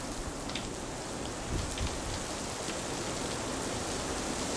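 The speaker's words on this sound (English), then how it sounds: "It is just pouring outside." Torrential rain pours outside during a severe storm, a dense, steady hiss of drops hitting surfaces, faint but continuous with no voices.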